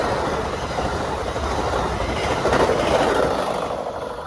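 The Amtrak Floridian 40 passenger train passes close at about 78 mph through Palm Beach, a loud continuous rushing roar with rail rumble swelling slightly mid-pass.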